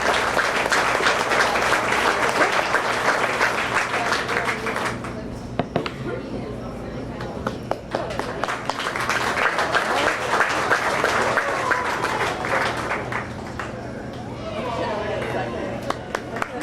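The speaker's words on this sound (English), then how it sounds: "Let's give them a round of applause, please." Crowd applause for exhibitors at a county fair beef show, sustained clapping from a large audience that dips briefly midway and then swells again, with chatter and a voice over the public address heard through it.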